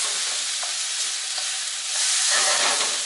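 Onions frying in a pan for vegan Christmas fried rice make a steady, close, broadband sizzle, with a hissier surge near the end and no one talking.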